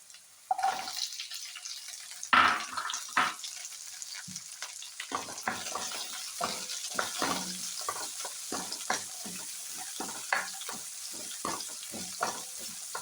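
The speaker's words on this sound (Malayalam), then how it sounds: "കൊച്ചുള്ളി ആദ്യം ഇട്ട് കൊടുക്കും." Small onions (shallots) dropped into hot oil in a pan for a Kerala chicken curry, giving a close, steady sizzle with scattered crackles and stirring scrapes throughout.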